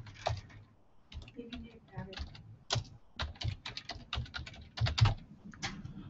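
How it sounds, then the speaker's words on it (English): Typing on a computer keyboard, with irregular bursts of close, crisp key clicks and pauses, mixed with faint talking. "So I'm going to type in women's empowerment."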